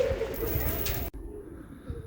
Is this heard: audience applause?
no